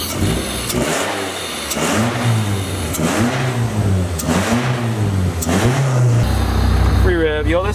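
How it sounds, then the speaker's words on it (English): A car engine revs freely in repeated bursts, about five rising and falling surges over a few seconds, and then settles into a rough idle. The revs are loud and close, with people talking over them. "Free rev."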